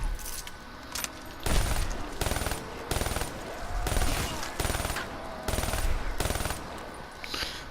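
Rapid bursts of automatic gunfire from a weapon called the Dredge in a video game, fired in evenly repeated volleys with short gaps between them, fairly loud throughout.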